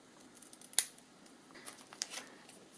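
Scissors snip through ribbon at an angle, a crisp close cut followed by a few softer snips and handling noises in a quiet room.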